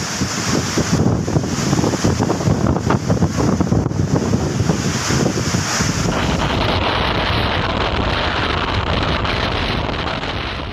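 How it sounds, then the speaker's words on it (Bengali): Gusty storm wind from Cyclone Remal blasts across the Bangladesh coast at night. It makes a continuous loud roar buffeting the microphone, with surf-like rushing throughout and a slight drop in intensity toward the end. "রেমালের শক্তিমত্তায় বয়ে যাচ্ছে দমকা ঝড়ো হাওয়া।"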